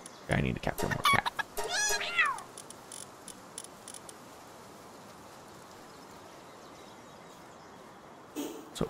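A cat Pal meows in Palworld, a few short rising game cries right at the start. A voice is heard briefly, then steady low ambient hiss fills the rest.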